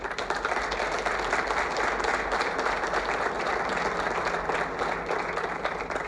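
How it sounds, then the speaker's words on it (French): A hall audience applauds continuously and loudly for the whole stretch, a dense even wash of many hands clapping with no talk rising above it. "Je vous prie de vous lever pour que la salle vous acclame."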